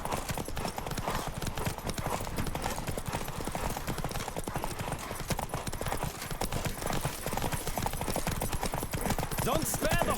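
Horse galloping in The Witcher video game, a fast, steady clip-clop of hooves that keeps going, with a voice talking over it.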